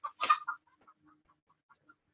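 Chickens clucking close by, a quick cluster of three loud clucks followed by a string of fainter, scattered clucks and murmurs fading into quiet.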